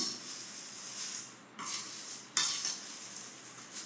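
Dry, crunchy rustling as puffed rice with gram flour sev is tossed and mixed in a bowl, with two sharper scrapes partway through.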